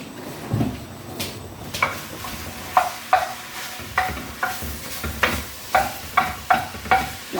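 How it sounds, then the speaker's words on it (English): Minced beef fries in a pan with onions as a spoon breaks it up, with regular scraping strokes roughly every half second over a steady sizzle, close and fairly loud. "Now, I'm going to put on my minced beef."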